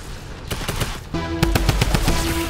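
Video game gunfire: rapid bursts of automatic shots, sparse at first then a sustained fast rattle, loud and close with a tonal hum underneath and no talking.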